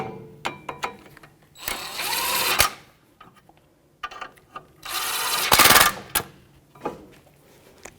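A socket wrench with an 18mm socket tightens a caliper bracket bolt on a 2007-2017 Jeep Patriot front brake, giving bursts of rapid ratcheting clicks in two longer runs and some shorter ones, close and fairly loud, with no talking.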